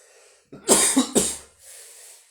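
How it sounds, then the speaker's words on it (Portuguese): A sharp cough bursts out three times in quick succession, close and loud, followed by a soft breath. "Desculpa, gente, pela tosse."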